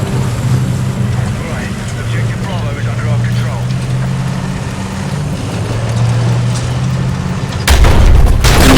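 A mine goes off in the video game Battlefield 6 with a sudden heavy boom near the end, after a long stretch of low vehicle engine rumble and scattered game noise.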